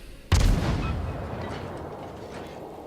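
Warship guns firing in the World of Warships naval video game, heard as one sudden loud blast followed by a long rumbling boom that slowly fades.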